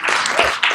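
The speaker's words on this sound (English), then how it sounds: "So give yourselves a round of applause because some change happened here this evening." Town hall audience in Oakland breaking into applause, a dense, steady wash of many hands clapping at once for under a second, close and fairly loud.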